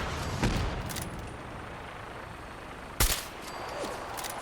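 Gunfire in the post-apocalyptic shooter Fallout 4 during a fight with Brotherhood of Steel soldiers: two sharp, loud shots land about two and a half seconds apart, with a low ambient rumble between them.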